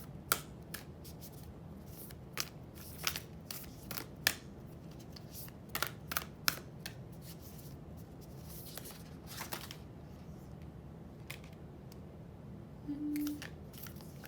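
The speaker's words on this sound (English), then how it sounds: "I'm just gonna quickly shuffle for you now" Rapid bursts of tarot cards being shuffled, crisp riffling clicks repeating in quick flurries with short pauses between, close up and fairly quiet.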